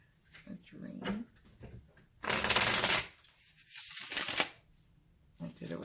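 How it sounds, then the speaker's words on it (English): A Lo Scarabeo Tarot of Haunted House deck being shuffled, giving two bursts of crisp riffling card noise at close range between stretches of quiet talk. "It shuffles like a dream."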